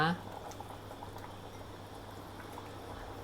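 Coconut galangal chicken soup with mushrooms and sweet corn simmering in a pot, a soft steady bubbling hiss, faint and close, with no clear speech over it.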